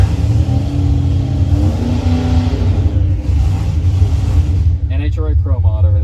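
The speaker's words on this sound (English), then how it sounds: "NHRA Pro Mod over there testing" An NHRA Pro Mod drag car is being tested nearby, with a deep engine rumble and revving that runs steadily under the clip and then fades, while people talk at the end.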